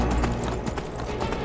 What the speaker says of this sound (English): My horse's footsteps.